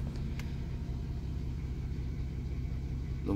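A Volkswagen Golf R32 4Motion engine runs with a steady low rumble at idle, heard close and continuous for a few seconds without talk.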